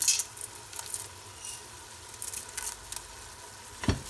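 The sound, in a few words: mixing harira soup ingredients in pot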